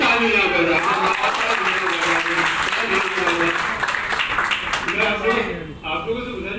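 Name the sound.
audience clapping, applause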